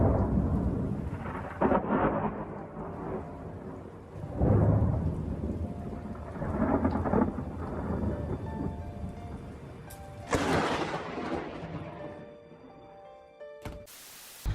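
Lightning storm with heavy rain hissing steadily as thunder rumbles and cracks in several loud bursts, one sharp close clap near the end, with no voices.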